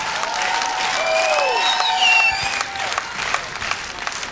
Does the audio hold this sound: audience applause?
yes